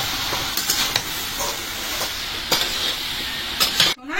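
Malabar spinach curry with fried potatoes sizzles and hisses in a pan, close and steady, with short scraping stirs breaking through.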